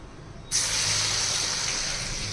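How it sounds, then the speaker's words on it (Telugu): Chana dal vadas (garelu) drop into hot oil with a sudden loud sizzle that settles into a steady, close frying hiss. "శనగలతో గారెలు వేస్తున్నాను నేను"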